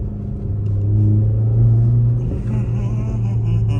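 Renault Megane Trophy RS, 350 hp, drifting: a deep, loud engine drone that holds steady and climbs slightly before easing off, with tire scrub creeping in near the end.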